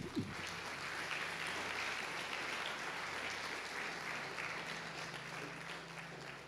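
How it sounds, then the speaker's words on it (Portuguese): A church congregation applauds continuously, a dense, steady wash of many hands clapping that fills the room for several seconds and tapers slightly at the end. "Vamos aplaudir Jesus"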